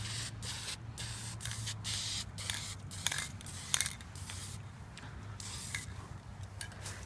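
Repeated bursts of aerosol spray paint laying the first coat on a custom helmet, hissing in short and longer blasts over a steady low hum, close and fairly loud, with no talking.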